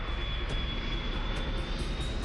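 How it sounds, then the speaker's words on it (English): An airliner flies in low on approach, its engines giving a steady, loud rumbling roar with a faint high whine running underneath. "The plane comes in low."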